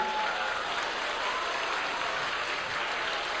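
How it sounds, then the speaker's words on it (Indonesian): A crowd applauds warmly for Ganjar Pranowo at a university event, dense steady clapping filling the room for a few seconds without voices on top. "Mari kita apresiasi Pak Ganjar dengan tepuk tangan yang sangat meriah"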